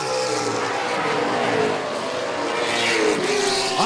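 Late model stock cars race in a pack around an oval track, engines roaring loud and steady throughout with a brief tire scrape near the end; no voices are heard.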